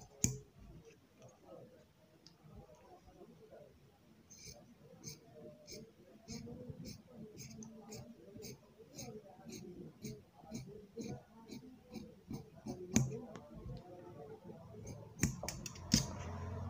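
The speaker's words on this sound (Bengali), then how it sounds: "দেখেন ভিউয়ার্স, এইভাবে গলাটা সমান করে কেটে নিতে হবে।" Scissors cutting a blouse neckline in fabric, giving a steady run of small crisp snips at a fairly regular pace, close and moderately quiet, with a voice talking at times.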